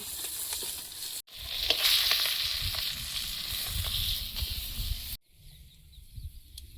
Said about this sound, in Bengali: মাছগুলো ভাজা হয়েছে, প্লেটে তুলে নেব।